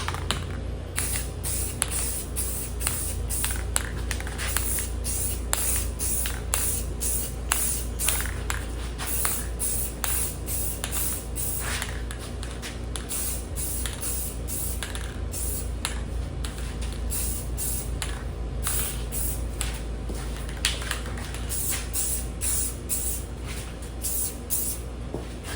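A rattle can sprays paint in a steady, continuous hiss, broken by short bursts and brief pauses as the nozzle is pressed and released, close to the ear throughout with no talking.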